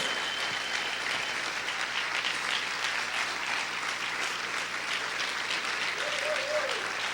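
A church congregation applauds loudly and steadily in a worship service, a dense continuous wash of clapping with a brief vocal cry near the end.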